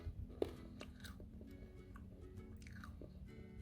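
Freeze-dried pineapple snack pieces crunch between the teeth: one sharp close bite followed by a run of crisp, brittle chewing crackles, quiet and up close.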